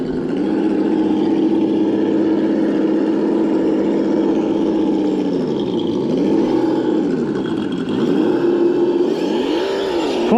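A small electric RC crawler motor, stock with a 15-tooth pinion, whines loudly at a steady high pitch at full throttle in first gear, its tone dipping and rising a few times as the throttle eases and returns.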